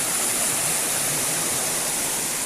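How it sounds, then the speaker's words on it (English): Waterfall on the West Highland Way in Scotland, a steady broadband rush of falling water, loud and continuous with no break, heard alone without talking. "That's some pretty falls."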